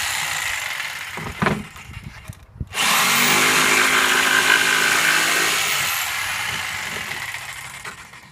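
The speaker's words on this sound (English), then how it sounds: "We have notched the edges around the 2x4s and we're screwing it in." A power drill drives screws through the notched bottom panel of a rabbit hutch shelter into 2x4 framing, a short burst followed by a long steady whine that tapers off, loud and close with no talk.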